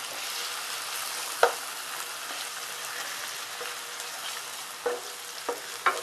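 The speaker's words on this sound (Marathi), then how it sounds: "तेल छान गरम झालेलं आहे. आता त्यात मी कांदा टाकते." Onion dropped into hot oil for a Maharashtrian vegetable dish, giving a constant hissing sizzle throughout with a few sharp clicks and scrapes of a utensil, and no talking.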